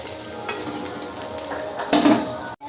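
Paneer frying in hot oil in a kadai gives a steady sizzle with faint stirring clinks and a louder burst of crackle near the end, with no talking.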